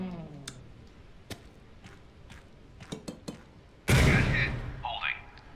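A grenade blast in the tactical game Door Kickers 2: scattered sharp clicks and taps give way to one sudden loud burst that fades over a second or so, with a voice right after.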